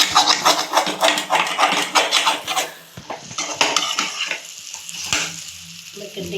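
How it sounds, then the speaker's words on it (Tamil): Brinjal kuzhambu being stirred in a pot, with a spoon scraping and tapping against the metal in quick rhythmic strokes over a steady sizzle of hot oil, close and fairly loud, then slowing to sparse clinks. "கிண்டிக்கலாம். கிண்டிட்டு கொஞ்ச நேரம் அப்படியே இது வேகட்டும்."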